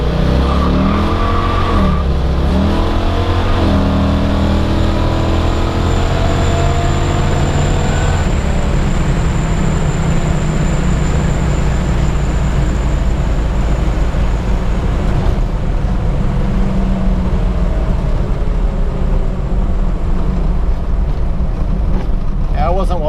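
Pro street Ford Falcon accelerating hard on an open road, a loud continuous engine roar with rising and shifting pitch, heard from inside the car with wind and road rumble.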